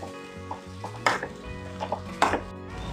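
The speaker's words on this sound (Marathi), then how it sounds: "हे बटाटे आपण आता चांगलं मिक्स करून घ्यायचं" A spoon stirs and scrapes spiced potatoes and peas in a pan for samosa filling, giving a few distinct clinks and scrapes at separate moments against low kitchen hum, with no talk.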